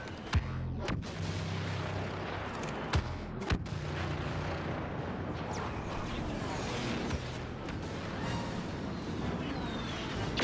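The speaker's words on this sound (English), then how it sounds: "Bombers have launched and are on their way." Heavy bombardment from a Star Wars video game: dense, continuous rumbling explosions and artillery fire with sharp booming impacts punctuating the din throughout.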